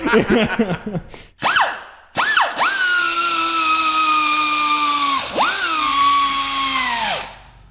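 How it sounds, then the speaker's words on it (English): A high-pitched powered rotary tool grinds on the frame of a go-kart with a 900cc Ducati engine. The whine is loud and close, comes in short bursts with rising and falling pitch, then holds steady in a long run before winding down. "can you grind over here, sir?"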